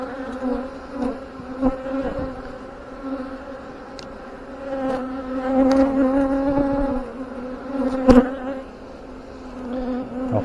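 Honey bees drone steadily and close by during a hive inspection, a dense buzzing that swells and fades as individual bees pass near. Now and then a louder, sharper pass cuts through the hum.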